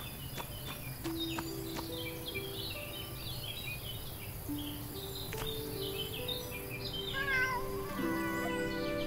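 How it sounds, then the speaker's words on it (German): Cat meowing in the farming life-sim game Everdream Valley, several short meows repeating over a steady ambient backdrop of birdsong and insect chirps, with no talking. "Katze, geh doch weg."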